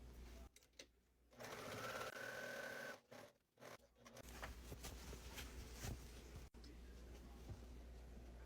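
A sewing machine stitches fabric for a pumpkin-shaped trick-or-treat bag, running in steady whirring bursts with short stops between, close and constant.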